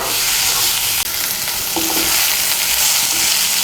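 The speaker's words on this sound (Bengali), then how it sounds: "বেগুনগুলোকে শাকের সঙ্গে মিশিয়ে নিয়ে আরও আমি 1 মিনিটের মতো রান্না করে নেব" Radish greens and eggplant cooking in a hot pan, a dense steady sizzle with soft stirring scrapes, close and loud throughout.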